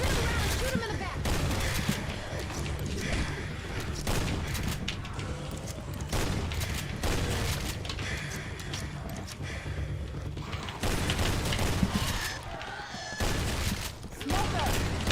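Dense, sustained gunfire from Left 4 Dead 2 rattles almost without pause, with rapid overlapping shots and bursts under game noise and occasional voices.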